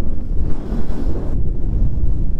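Strong storm wind at Amsterdam's Sixhaven harbour buffets the microphone in a steady, loud roar, with a low rumble that stays constant throughout and no voices.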